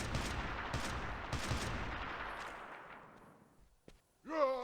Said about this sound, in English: Let's try out good old assault rifle.